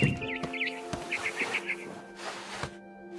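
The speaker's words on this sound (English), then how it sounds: "I heard chirping outside my window. It was a barn swallow going back to her nest." Short, repeated barn swallow chirps in quick little bursts, from What Remains of Edith Finch, fairly close, over a steady background hum with a couple of soft thuds.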